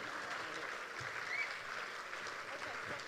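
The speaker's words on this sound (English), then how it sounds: "can I get one more round of applause for these two incredible mothers?" Soft, distant applause from a gala audience honoring two mothers, a low continuous patter of clapping with talk mixed in.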